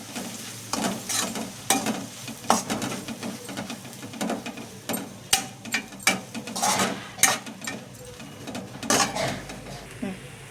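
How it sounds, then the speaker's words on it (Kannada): A spoon scrapes and stirs puffed rice (mandakki) in a pan for susla, giving repeated rough, uneven scraping strokes, close and fairly loud, with a low background hum. "ಈ ಪೂರಿನೆಲ್ಲ ಹಾಕ್ಕೊಂಡು ಮಿಕ್ಸ್ ಮಾಡ್ಕೋಬೇಕು ನೀಟಾಗಿ"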